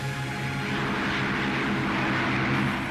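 A Spitfire's piston aircraft engine drones steadily at full throttle during takeoff, a continuous loud roar with a low hum and no voices.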